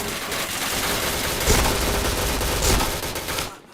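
Rapid gunfire in a shooting video game, dense continuous bursts with two heavier shots standing out, loud and close, ending abruptly.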